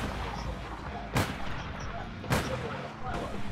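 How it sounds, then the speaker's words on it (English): Gunfire in the APB Reloaded video game: two sharp shots about a second apart, heard over a steady bed of game ambience and music. "Shooting civilians like a boss."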